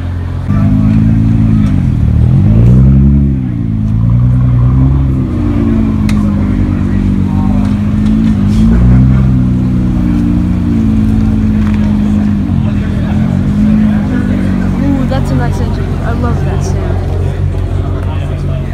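A car revs and pulls away at a cars-and-coffee meet, its engine note rising and falling with scattered exhaust pops, loud and close under steady crowd chatter and talking.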